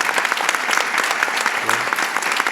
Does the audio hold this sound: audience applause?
yes